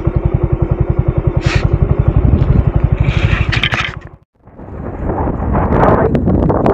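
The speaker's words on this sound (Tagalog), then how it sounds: "sobrang lakas pa rin yung hangin talaga dito sa taas na to" Heavy, roaring mountain wind buffets the microphone in strong rhythmic gusts, dropping briefly to near silence before surging back loud and close, on a high road between Nueva Vizcaya and Pangasinan.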